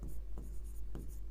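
Black ink pen writing on paper, a steady continuous scratchy scribble with a few sharper strokes, close and fairly quiet, no voices.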